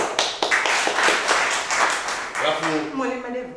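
A school class claps for a student receiving a small prize: a burst of rapid, overlapping handclaps for a couple of seconds, then a voice starts speaking as the clapping stops.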